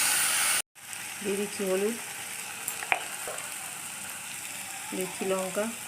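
Ginger, salt, onion-garlic paste and spices sizzle in oil left over from frying fish, with a steady loud crackle and stirring scrapes, while someone talks over the pan.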